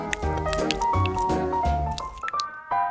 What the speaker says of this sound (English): It's time to pour the dough into the mold and put it into the oven for half an hour.